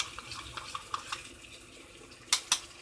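A spoon stirs gravy in a cooking pot, giving a string of light scraping clinks at a steady pace, then two sharper metallic knocks near the end, all fairly quiet and with no voice.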